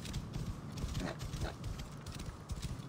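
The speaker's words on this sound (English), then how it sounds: "And my horse should be up over the ridge" Horse hooves clip-clopping at a steady walk in the Assassin's Creed Origins video game, faint and mixed with light creaks and ambient game noise, no voices.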